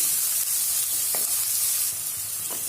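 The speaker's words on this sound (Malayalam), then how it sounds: "നന്നായിട്ടൊന്ന് വഴറ്റി കൊടുക്കുക" Sliced onions sauté in a pan with oil for dhaba-style egg bhurji, giving a loud, steady close sizzle with a few soft stirring knocks and no talking.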